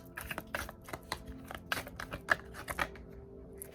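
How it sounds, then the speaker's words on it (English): A deck of cards is shuffled by hand, giving quick soft riffling flutters and taps in short bursts, close and fairly quiet, with no talking. "I'm gonna shuffle again."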